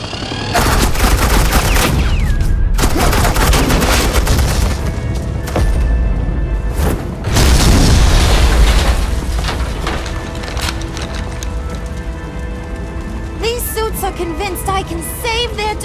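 Sustained suppressing gunfire in Batman: The Enemy Within, dense bursts of rapid shots and booms nearly throughout, loud and close, with brief lulls and a final cluster of sharper metallic shots near the end.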